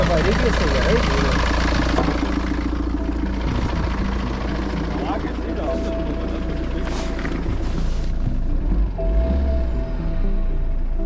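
A car engine idles steadily at close range throughout, a continuous low rumble with a faint hum layered on top, while people talk over it at intervals.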